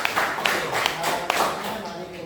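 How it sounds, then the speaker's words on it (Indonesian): A classroom of students clapping for a classmate, scattered uneven claps with a few sharp distinct hits, mixed with ongoing chatter and voices in the room. "Mari beri tepuk tangan dulu untuk ya."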